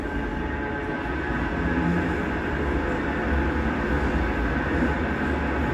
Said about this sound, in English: The tram, ladies and gentlemen.